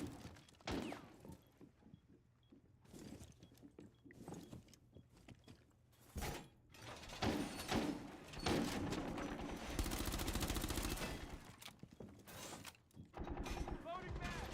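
Video game gunfire shooting up through the floor from below: rapid bursts of automatic fire and mechanical clatter, loud and dense through the middle, with a voice talking at times.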